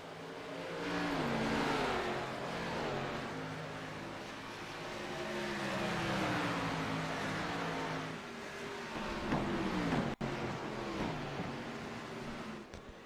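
NASCAR K&N Series race cars roar around the track in close battle, a steady loud engine drone with rising and falling revs and passing cars, continuous throughout.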